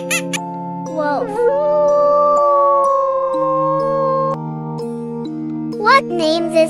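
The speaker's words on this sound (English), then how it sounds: "Wolf." A wolf howl from an animal-learning sequence, a long wavering tonal cry with pitch slides, over a tinkling jingle-like musical backing, loud and close.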